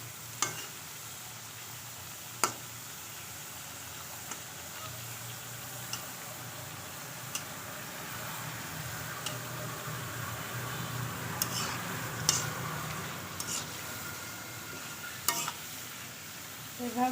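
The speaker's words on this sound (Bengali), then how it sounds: "এভাবে নেড়ে একটু বাদামি কালার হওয়ার সঙ্গে আপনারা উঠিয়ে নেবেন" French fries frying in a pan of oil, a soft, even sizzle with occasional sharp taps and scrapes from stirring, fairly quiet and close, no speech.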